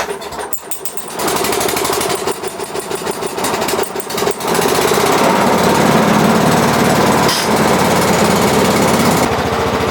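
A lawnmower engine fuelled with liquor sputters briefly, then settles into a loud, steady, rattling run close by for the rest of the clip.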